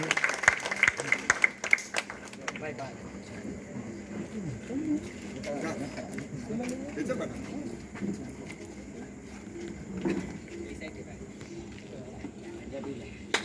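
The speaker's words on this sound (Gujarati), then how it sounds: "સૌને જોરદાર તાળીથી વધાવ વિનંતી છે" Crowd applause at an outdoor Congress party campaign welcome for a Valsad candidate, a loose, steady clatter of clapping running throughout with voices and background chatter mixed in.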